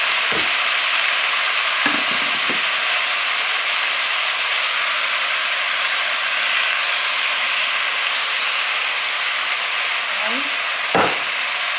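Texas chili sizzles steadily in the pot, a continuous broadband frying hiss, with a few brief scraping knocks of stirring as seasoning is mixed in; no one speaks.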